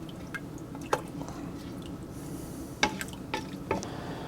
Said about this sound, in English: then cover with cold water